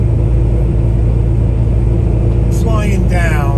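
A truck driving down Interstate 95 South in Georgia, heard from the cab as a steady, loud, low engine and road rumble throughout, with a brief voice-like sound near the end.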